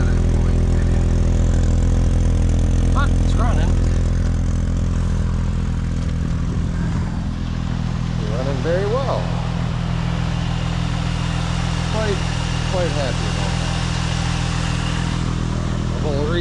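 Jeep Grand Cherokee off-road rig engine idling loudly with its muffler removed, a steady low rumble filling the clip while a person talks faintly over it.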